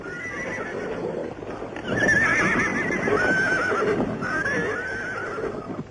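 Horses neigh and whinny with a steady clip-clop of hooves beneath, a herd being moved together in a 1963 film scene; the neighs ring out loud and close over continuous hoofbeats with no talk.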